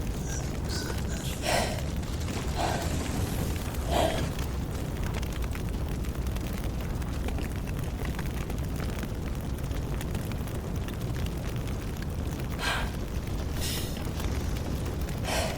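A whole hotel going up in flames, heard as a continuous low roar of fire with occasional sharp cracks and pops in the first few seconds and again near the end, with no voices over it.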